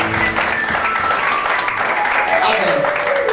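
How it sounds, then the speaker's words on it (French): Wedding guests in Paris clap and cheer as a couple is called forward, a broad wash of applause mixed with voices and cries, loud and sustained. "sous vos acclamations"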